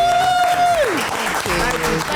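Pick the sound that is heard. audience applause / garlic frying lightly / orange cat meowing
audience applause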